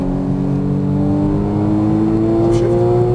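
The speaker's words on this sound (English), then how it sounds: "Unwind out to the left, accelerate." A race car accelerates hard along a racetrack, its engine note climbing steadily in pitch with a strong, close, continuous roar and no pauses.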